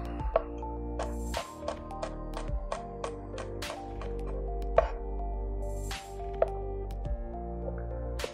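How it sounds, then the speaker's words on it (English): A knife chopping garlic finely on a cutting board for pico de gallo, a steady run of close, crisp taps that repeat roughly twice a second, with no voices. "Now we're chopping up a bunch of garlic."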